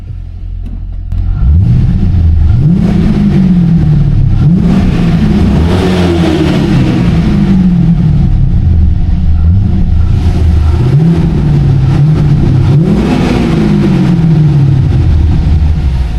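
A Holden V8 with a cat-back exhaust revs repeatedly in an underground car park, loud and close, each rise and fall echoing off concrete with a deep burbling note between blips.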